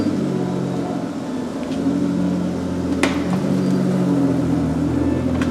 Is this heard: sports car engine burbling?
yes